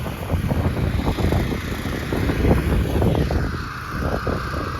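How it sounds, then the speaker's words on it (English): Strong outdoor wind buffets the microphone during a softwashing job at a house, a steady, loud low rumble with gusty surges throughout and no voices. "Wow, this wind is terrible though."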